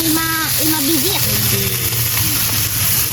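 Shrimp fry in a pan at a family hillside campsite, giving a steady, close hiss of sizzling oil throughout while people talk over it.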